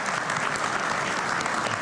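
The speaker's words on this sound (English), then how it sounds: "Can we give her a big applause?" Steady applause from a conference crowd at an Arabian horse racing forum in Madrid, continuous clapping filling the space without a break, fairly loud and close.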